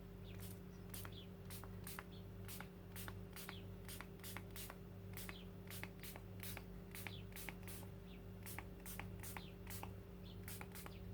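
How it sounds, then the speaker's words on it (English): A water spray bottle mists onto textile dye in mixed media art work, many quick hissing spritzes in a fairly regular rhythm, close but faint over a steady low hum. "so now I've got water in a spray bottle"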